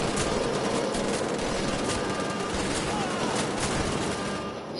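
Sustained gunfire rattles through a Wolfenstein: The Old Blood fight, dense and continuous across the whole stretch, with occasional sharper bursts over a constant roar of combat noise; a voice speaks faintly beneath it.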